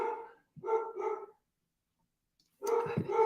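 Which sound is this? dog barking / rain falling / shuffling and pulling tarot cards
dog barking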